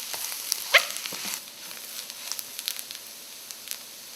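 Soft, steady sizzle of spices frying in a pan for Kerala fish curry, with a brief clink near the start and scattered faint crackles, quiet and close, no talk.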